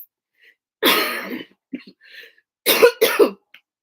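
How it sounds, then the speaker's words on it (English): A long hacking cough from a person getting over a cold is followed by a few small throat sounds, then two more sharp coughs in a row, close and loud. "I'm sorry for that cough."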